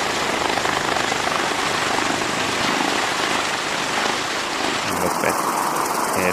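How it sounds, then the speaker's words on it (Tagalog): A helicopter throbbing overhead, a loud continuous rotor roar that fills the whole stretch and shifts in tone near the end, with no talk. "Helicopter ba yan?"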